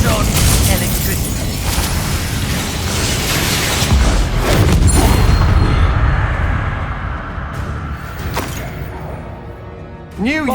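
Spell blasts from Bombarda and Expulso in the Hogwarts Legacy video game, a dense run of booming explosive impacts and crashes under game music and effects, loud and continuous, with a sharp new burst right at the end.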